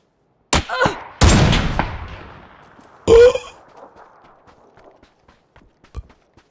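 Lynx sniper rifle in the game PUBG fires a few heavy, booming shots, each with a long rolling echo tail, then fainter scattered reports trail off at a distance.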